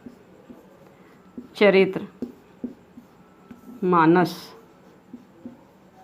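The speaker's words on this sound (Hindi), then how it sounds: "यहाँ लिख रही हूँ उत्तर" Pen or chalk scratching out an answer on paper or a board during a B.Ed class lesson, a soft continuous scraping with small ticks, broken twice by short voiced sounds.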